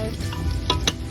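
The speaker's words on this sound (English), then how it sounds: "So I'm going to start to put my roast in here and sear it." Beef roast sears in a hot pan for birria tacos, a steady close sizzle with a couple of brief utensil scrapes.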